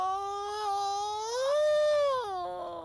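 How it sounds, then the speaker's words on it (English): A person lets out one long, drawn-out groan while stretching, the voice rising in pitch, holding, then sliding down before trailing off, close and alone. "Sorry for that noise. That was a really good stretch."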